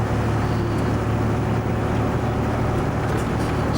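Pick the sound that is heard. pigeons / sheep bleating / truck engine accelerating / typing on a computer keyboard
truck engine accelerating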